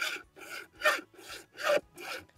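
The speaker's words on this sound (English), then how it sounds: "I'm going to take my hacksaw" A hacksaw cuts through a plastic irrigation valve box in six steady back-and-forth strokes, each a rasping burst with short pauses between, close and moderately loud with no talking.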